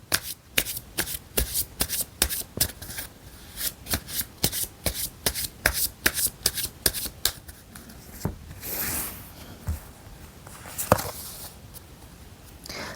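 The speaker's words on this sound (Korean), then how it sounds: "마지막으로 조언 카드 하나 더 뽑아볼게요" Tarot cards being shuffled before an advice card is drawn: rapid, rhythmic riffles and snapping card flicks for about eight seconds, then softer sliding and handling, close and clear with no talking.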